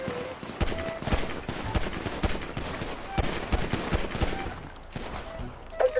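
Gunfire crackles in rapid, irregular bursts of sharp reports, some near and some farther off, layered into a dense, ongoing exchange with no clear pauses.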